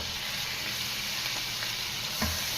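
Garlic, onion and meat sizzle steadily in a hot pan while a bottle gourd dish is sautéed, with a brief louder stir or clatter near the end and no talking.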